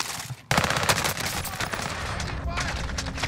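Sustained automatic gunfire from a CR-56 AMAX assault rifle in Call of Duty Warzone, a loud, dense burst that starts abruptly and rattles on continuously, with game sounds behind it.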